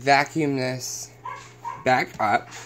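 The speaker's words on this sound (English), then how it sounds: "if you hear a dog barking, I apologize. I locked them all in the laundry room." A dog barks from a laundry room in a home while someone talks over it during a vacuum cleaner test; short barks and whimper-like yips come in bursts between his speech.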